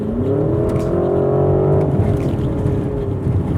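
A 2021 Porsche Cayenne Turbo GT's engine roars loudly and continuously as it accelerates, its pitch rising then settling, heard close up with no voices.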